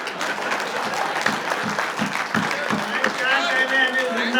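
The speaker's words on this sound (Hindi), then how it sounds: "अब बजाओ ताली।" Audience at a Hindi comic poetry gathering (kavi sammelan) bursting into applause, a sustained wash of many hands clapping at steady volume for several seconds, with a voice and some tonal sound rising toward the end.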